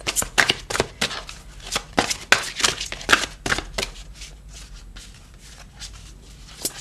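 Playing cards shuffled and handled at a table, a rapid run of crisp riffling snaps and flicks that thins out into softer, scattered card handling, with faint voices in the background.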